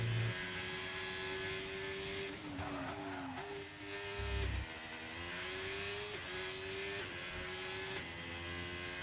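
Formula race car in a racing game, qualifying lap at Bahrain, its engine a steady high-pitched whine that dips and climbs through gear shifts and a right-hand corner, loud and continuous with no talk.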